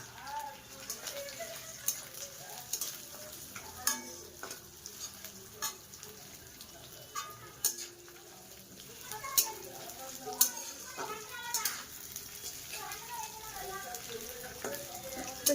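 Washed cashews and raisins frying in oil with ginger for pulao, a soft continuous sizzle broken by repeated sharp clinks and scrapes of a stirring spoon against the pan, with a voice talking intermittently.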